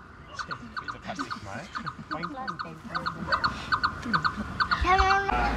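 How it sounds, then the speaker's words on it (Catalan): Repeated chirping bird calls ring out over a dense, noisy background of other calls in woods near Cardedeu, fairly close, with a brief louder burst near the end. "Així sona una de les moltes espècies d'ocells que es poden trobar als vols de Cardedeu."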